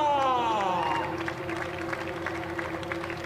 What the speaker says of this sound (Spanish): Aplauso para Max de Fournier, Lando Norris y Jehan Daluwala.